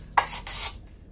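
Card scraper shaving epoxy off a walnut tabletop, two short, soft rasping scrapes close by in a quiet workshop.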